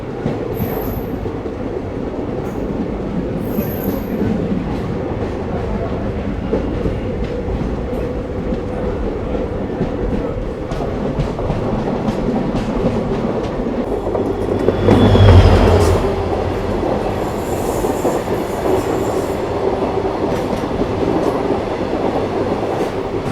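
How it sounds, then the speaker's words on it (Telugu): Vishwamanava Express train departing Dharwad, heard from on board: a steady rumble of rolling wheels and rail noise with faint clicks, swelling briefly in the middle, continuous throughout. "బండి అయితే ఇప్పుడు ధారవాడ నుంచి అయితే డిపార్ట్ అయిపోయిందండి."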